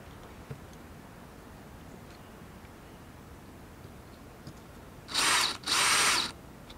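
Two short bursts of a power drill whirring near the end while installing a garden hose spigot, loud against an otherwise quiet, hissy background.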